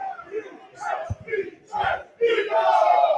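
Excited Eagles fans roaring and chanting in a packed crowd before the NFC Championship game against the 49ers, loud and continuous with rising bursts, a voice shouting through the noise.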